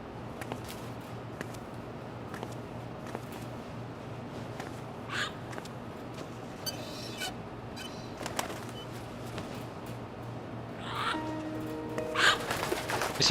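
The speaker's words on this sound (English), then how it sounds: "This is so well done, that parrot." A parrot in Metal Gear Online gives scattered, faint squawks over a low ambient hum, turning louder and busier near the end.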